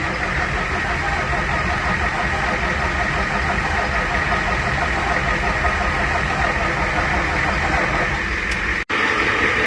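An old car engine runs steadily after a jump start, a loud continuous rumble close by that holds an even idle with a brief cut near the end.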